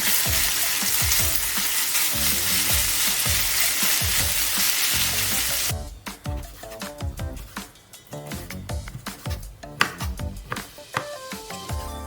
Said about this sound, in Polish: Smażymy około pół minuty.